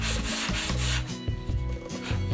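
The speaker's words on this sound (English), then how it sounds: "so we're sanding the rest down until that shiny spot goes away" Repeated sanding strokes across an airplane's surface, evening out a low shiny spot: steady, close, loud back-and-forth rubbing in a quick rhythm, with no voices.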